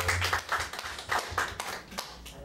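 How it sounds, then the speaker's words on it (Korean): Scattered clapping from a church congregation, a short spell of uneven hand claps fading out. "다시 한번 격려의 박수 부탁드립니다"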